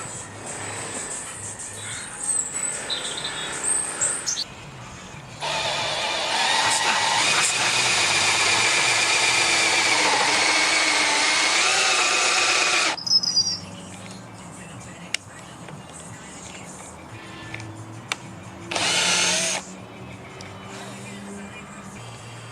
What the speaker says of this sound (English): let's get the drill and drill a hole to mount it.